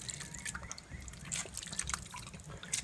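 Shredded coconut and water squeezed by hand in a home kitchen, wet squelching with dripping and trickling liquid in irregular bursts, close and fairly faint, with no talking over it.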